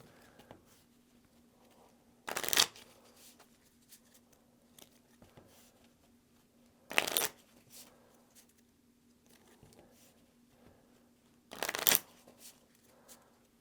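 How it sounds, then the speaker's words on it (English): Deck of cards for the Spring and Autumn: Story of China board game being shuffled in three brief, crisp riffling bursts several seconds apart, close up in a quiet room. "we're going to shuffle that into the deck"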